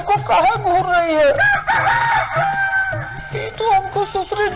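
A chicken makes loud, near clucking and crowing calls in a Hindi television comedy scene, several drawn-out strained calls in a row with voices mixed in around them.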